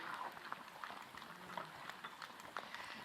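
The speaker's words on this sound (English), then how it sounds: "And then we stir, stir, stir," Zucchini risotto stirred in a pot with butter and pecorino and parmesan cheese, soft wet bubbling and squelching with light scraping strokes, faint and close.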